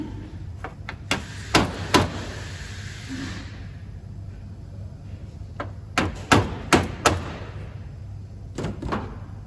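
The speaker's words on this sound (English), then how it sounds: "just give it a gentle tap with a hammer, and it should just crack that off" A hammer taps a metal stud held in a vise in sharp, ringing blows, a few scattered strikes then a quicker cluster, each clang short and close, during a Daihatsu Fourtrak starter motor repair.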